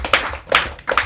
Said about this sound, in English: Give a round of applause for yourselves.